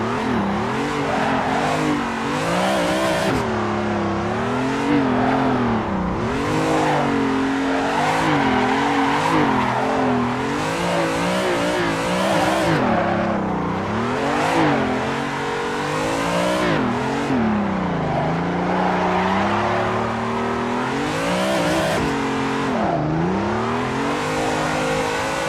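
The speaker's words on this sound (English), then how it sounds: "you just clamp the throttle hoping that it just carries on gaining speed and you can carry on drifting" A car at full throttle while drifting in Assetto Corsa, a BMW M3 or Toyota AE86, wails with a loud, sustained engine howl rising and falling through revs, tire squeal layered over it, continuous and without speech.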